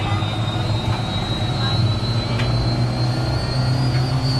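A Huey helicopter's turbine engine runs up during startup, a loud, continuous whining roar with a steady high tone held close throughout, with faint talk beneath.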